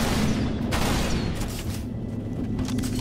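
Rapid bursts of gunfire crackle over a dense, noisy background, with several sharp shots in quick succession.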